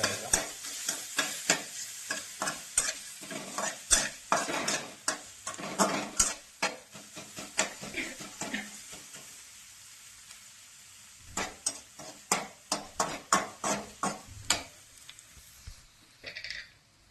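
Roasted chillies frying in a pan, stirred with repeated scraping strokes over a steady sizzle, the scrapes bunching in busy bursts, easing to a quieter hiss, then picking up again near the end; no one speaks.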